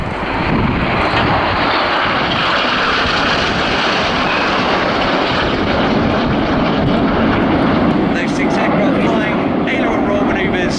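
A fixed-wing aircraft rolls at the last RAF Leuchars airshow in 2013 with a loud, steady engine roar that fills the whole stretch. A commentator speaks over it throughout.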